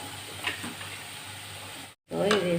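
Curry-leaf mixture simmering on low heat in a pan before rice is added: a soft, steady sizzle with a few light stirring taps, broken by a brief cut to silence, then a slightly louder bubbling fry.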